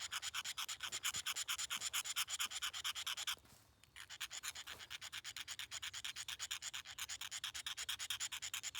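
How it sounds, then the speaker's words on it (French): Blade scraping a magnesium rod into shavings over birch bark, a rapid, regular rasping stroke repeated steadily, close and fairly quiet, with one brief pause in the middle. "je vais racler ça pour faire des jolis copeaux de magnésium que je mets avec mon écorce de bouleau"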